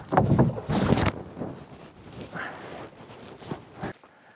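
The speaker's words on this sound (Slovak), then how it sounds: "Chvíľku mi trvalo zistiť, ako správne zaberať veslami" Oars dipping and pulling a wooden rowboat across a lake in Sweden, with uneven splashy strokes close by, loudest at the start, then softer water sloshing and light wind.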